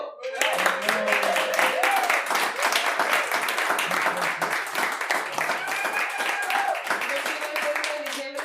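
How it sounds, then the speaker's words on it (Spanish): An audience at a diploma mid-course presentation in Ordu bursts into sustained applause, dense clapping running steadily throughout with voices mixed in. "¡Un aplauso!"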